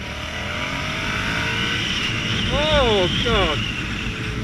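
Yamaha XSR700 motorcycle accelerating hard on a motorway, engine note rising in pitch under steady wind roar, with a brief spoken exclamation near the start.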